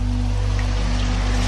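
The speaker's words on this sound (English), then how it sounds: "Yes, folks, that is rain." Steady rain falls outside a garage during a European bicycle tour, a continuous even hiss with a low constant hum beneath it and no voices.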